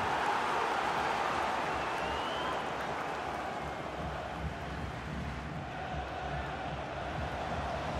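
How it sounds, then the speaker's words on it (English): A football stadium crowd during an international match between England and Holland roars as a continuous, dense wash of noise, steady and fairly loud throughout with no clear single voices. "just listen to the crowd."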